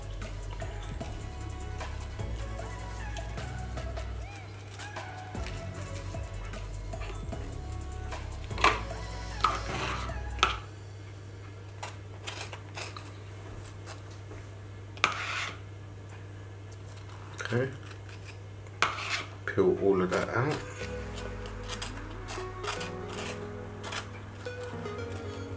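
A kitchen knife goes into an avocado, giving a few soft, close cuts and thuds against a board while a person talks over steady low background hum.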